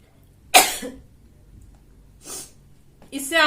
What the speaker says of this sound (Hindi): दो छींक हो गई।